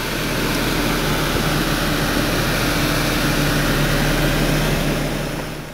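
A 2003 Infiniti G35 Coupe's 3.5-liter V6 engine runs with a steady, loud, close-up drone that holds even for several seconds and then eases slightly at the end, with no talking.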